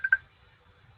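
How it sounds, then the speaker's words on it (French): A mobile phone gives two short, bright electronic beeps in quick succession, faint and close by, followed by quiet room hush. "c'était mon téléphone"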